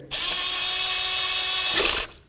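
A power tool drives valve cover nuts on a 1998–2002 Honda Accord, one steady loud whine of about two seconds at close range, ending abruptly.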